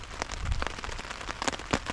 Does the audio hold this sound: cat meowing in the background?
no